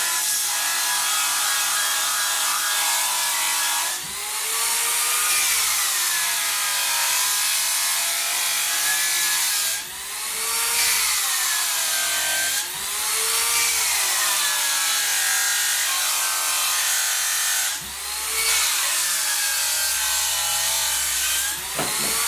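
An electric drill spins a wire brush across the steel of a trunk, a loud abrasive whirring scrub that rises in pitch and is briefly interrupted about every four to five seconds, close and alone.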